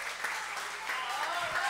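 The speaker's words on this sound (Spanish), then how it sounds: "Un aplauso para él, por favor." Audience applause for a band musician at a live cover performance, a steady wash of clapping with some voices mixed in throughout.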